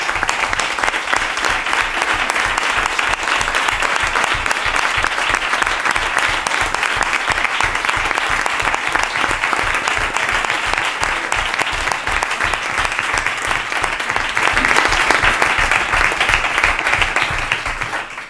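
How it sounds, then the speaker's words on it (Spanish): A large audience at a political party council meeting applauds steadily and loudly, dense clapping sustained without pause for many seconds before fading slightly at the end. "Y un aplauso para todas vosotras."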